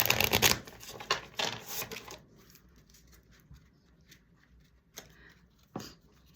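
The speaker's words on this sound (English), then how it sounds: "Let me shuffle one more time." Tarot cards are shuffled in quick riffling bursts for about two seconds, then only faint card taps and a couple of sharp clicks follow in a quiet room.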